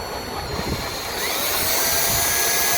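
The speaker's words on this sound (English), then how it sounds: "We're gonna have to drill a pilot for this third one." A power drill bores a pilot hole into the carbon fiber tail of a 2018 S1000RR motorcycle, a steady high whir that swells louder partway through, close and continuous.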